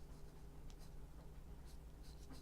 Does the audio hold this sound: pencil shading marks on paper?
yes